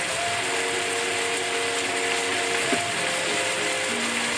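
A salad spinner whirls freshly cut zucchini noodles to pull out their juice, giving a continuous fast whirring rattle with a faint click partway through and no speech.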